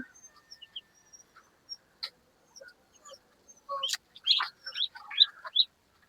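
Scattered chirps and peeps from chickens and ducks, sparse at first, then a busier cluster of overlapping calls, fairly close with quiet gaps between.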